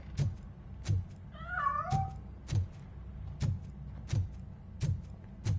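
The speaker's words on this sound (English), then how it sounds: "That cat must be hiding inside." A cat meowing in RoboCop: Rogue City, hiding near a piano, one drawn-out wavering meow over a quiet background with a regular thudding pulse repeating about every 0.7 seconds.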